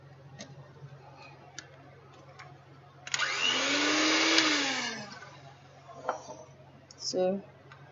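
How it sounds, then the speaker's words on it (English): An electric hand mixer beats a small batch of chocolate madeleine batter, giving one steady whirring burst of about two seconds between quiet kitchen clicks and taps. "that's why I'm using my hand mixer"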